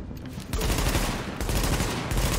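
Dense, continuous machine gun fire from the video game The Division, loud and sustained with rapid overlapping shots and a brief dip near the start.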